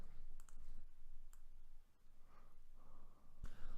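Several sharp computer mouse clicks sound close and fairly quiet while working on grid layers in digital synthwave art software, with faint breathing and room noise between clicks and no talk.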